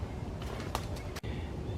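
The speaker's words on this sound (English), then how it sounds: "I love listening to the birds." Birds call in Iroquois Park on a quiet morning, a few short chirps and coos at moderate distance over soft outdoor ambience, with no talking.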